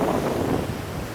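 Wind and breaking sea waves on the open beach at Dhanushkodi, a steady broadband roar that stays loud and constant with wind buffeting the microphone and nobody speaking.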